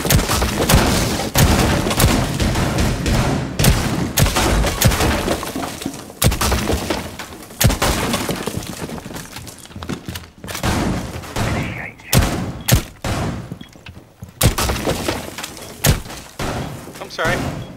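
Rapid SMG bursts in Rainbow Six Siege on the House map in a team deathmatch bomb match, with loud, sharp volleys and scattered impacts throughout. Players talk over the shooting.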